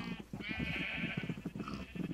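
Sheep bleat in Minecraft, a run of close, wavering blocky-game bleats that repeat and overlap steadily over a couple of seconds.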